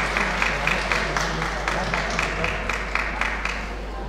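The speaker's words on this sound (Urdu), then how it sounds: "ابھی جب میں پیش کروں گا تب تالیاں بجائیے گا" Seminar audience applauding at a college event in Lucknow, a steady wash of many hands clapping with rhythmic peaks, heard continuously over a low hum from the room's sound system.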